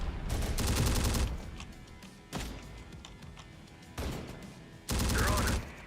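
Sniper and rifle fire in the tactical combat game Terminator: Dark Fate Defiance, sharp bursts of shots in several separate volleys with rattling echoes between them, fairly loud against a steady battlefield background.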